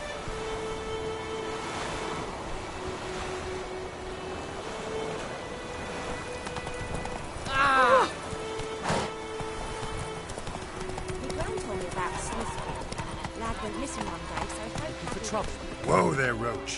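Roach, Geralt's horse in The Witcher 3, trotting with a steady clip-clop of hooves under game music and ambient surroundings, with a couple of louder tonal accents partway through.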